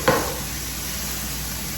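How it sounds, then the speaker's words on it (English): Mixed vegetables stir-fry in a pan with a steady, moderate sizzle. A single utensil scrape or clack sounds near the start, and the frying hiss continues evenly with no speech. "I'm going to cook these vegetables until they're crisp tender, and I'm going to be sure to stir them occasionally to make sure that none of them are burning"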